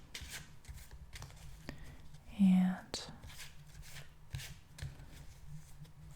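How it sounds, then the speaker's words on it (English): A deck of cards shuffled close up in a quiet room, with a short riffle burst and soft papery taps amid faint whispered speech. "I'm shuffling the cards."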